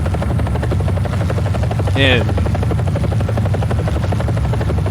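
Helicopter rotor and engine in War Thunder-style ground battle, a steady loud chopping drone filling the whole stretch with a short higher whine near the middle, a voice talking over it.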